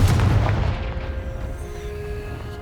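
A Confringo fire spell detonates in Hogwarts Legacy, one loud booming blast up front that rolls off into a fading, rumbling decay with no voices.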